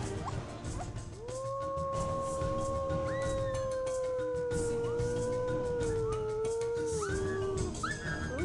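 A man imitates a wolf howl to teach captive wolves to howl: long, rising and sliding howls held for several seconds, with further overlapping howls joining in near the end over a low rumbling background.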